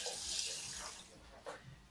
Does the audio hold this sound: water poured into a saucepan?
yes